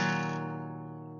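A single guitar chord strummed once, ringing clearly and close, then slowly fading out alone.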